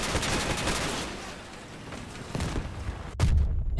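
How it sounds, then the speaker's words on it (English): Crossout combat game gunfire rattles in dense, rapid bursts of mechanical shots layered with heavier booms, loud and continuous, ending with a sharp crack and a deep low thud. "That guy's working hard at shooting all those down."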